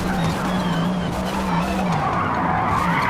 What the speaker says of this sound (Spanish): Uy, ese derrape me va a costar tiempo